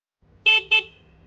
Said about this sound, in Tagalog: pakinggan natin kung ano yung tunog ng busina nito.